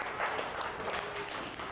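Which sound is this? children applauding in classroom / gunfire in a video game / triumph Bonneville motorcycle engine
children applauding in classroom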